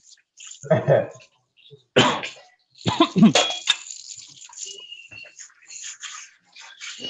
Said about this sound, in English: I'm so busy coughing from the hot pepper in the pot now.